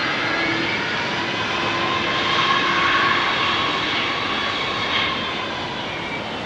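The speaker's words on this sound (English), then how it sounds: "Little bit of burst of engine just to get him round that turn." A jet engine at London Heathrow swells briefly in a low, whining roar as the aircraft turns on the ground, rising and easing off over a few seconds amid a constant background rumble.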